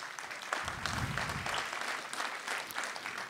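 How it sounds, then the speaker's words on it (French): Brief applause from an audience at a prize-giving ceremony, a scattered crackle of many hands clapping at moderate distance, steady throughout with no voices on top. "On peut l'applaudir."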